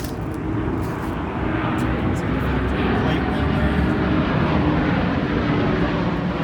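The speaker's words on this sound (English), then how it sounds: "Excuse the airplane." A loud, steady airplane engine roar fills the whole stretch, a low broad rumble as the aircraft passes overhead.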